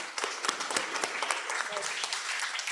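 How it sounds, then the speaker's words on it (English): Audience at a closing plenary session applauding, a dense, continuous patter of clapping from a crowd with faint voices mixed in underneath. "A big round of applause."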